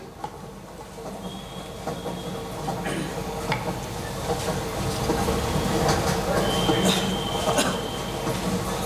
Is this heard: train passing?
yes